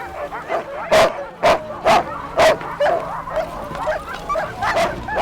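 Sled dogs barking in eager, repeated bursts around a dog sled race with other teams nearby, loud yips and barks recurring every half second or so with a steady chorus underneath.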